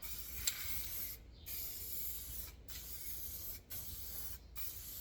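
Wide bursts of Minwax sanding sealer being sprayed onto MDF, a continuous close airy hiss broken by four short pauses between passes.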